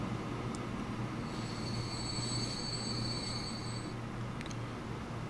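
A long goods train rolls steadily through a Transport Fever game world, a continuous rumbling rail noise with faint high squealing tones from the wheels, no talking.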